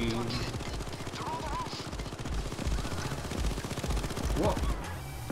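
Rapid automatic gunfire in Payday 2 rattles in dense bursts throughout, with a voice talking over the shooting and scattered game effects.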